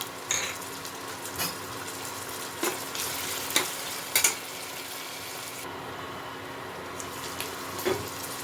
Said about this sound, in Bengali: এর মধ্যে আমি মটরশুঁটিটা দিয়ে দেবো, আর এই কুচনো কাঁচা লঙ্কাটাও দিয়ে দেবো। দিয়ে এগুলো ভালো মতো ভেজে নেব।